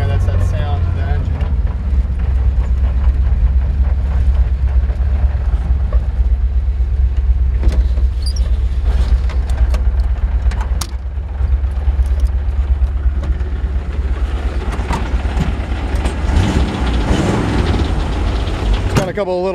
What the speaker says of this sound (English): That's that sound of the engine.